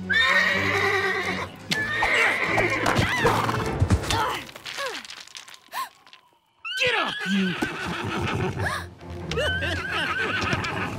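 A horse whinnies loudly amid shouting voices and commotion, with a brief lull before more neighing and yelling.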